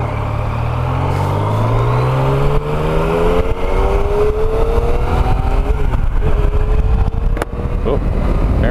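A 2015 Yamaha FJ-09 motorcycle accelerates while being ridden. Its engine note climbs steadily in pitch through the gears, under a constant loud rush of wind.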